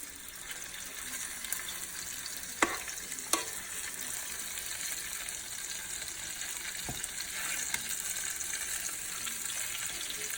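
Garlic butter salmon frying in a pan gives a steady, close sizzling hiss throughout, broken by a few sharp clicks, with no talking.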